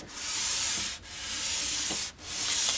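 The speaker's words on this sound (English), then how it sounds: "taking a fair amount off with this rough 80 grit stuff" Coarse 80-grit sandpaper rasps along an acoustic guitar neck being refinished, in loud, steady back-and-forth strokes with two brief pauses between passes.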